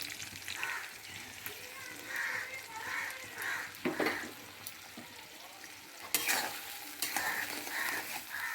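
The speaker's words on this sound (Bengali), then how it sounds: "দিয়ে আমি ভালো করে একটু নেড়ে নেব।" Pointed gourd frying in a pan is stirred with a utensil, giving repeated scraping strokes over a steady close sizzle.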